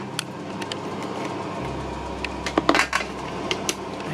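A lid lifted off a food dehydrator holding watermelon slices: a few light plastic clicks and rattles, with a short cluster of scraping knocks in the middle, over a steady low motor hum.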